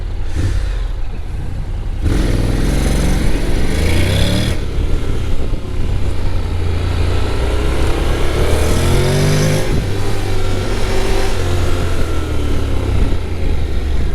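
A 2025 Honda Forza 750 scooter engine heard while riding: a loud, close engine drone with rising and falling revs over heavy wind rush, continuous throughout, with no talking.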